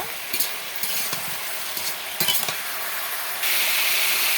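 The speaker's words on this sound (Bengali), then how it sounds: "সবজি ভালো করে কষিয়ে নিব।" Vegetables stir-fried in a pan: a continuous sizzle broken by repeated spatula scrapes and light clinks, then a brighter, louder hiss near the end, close up and without speech.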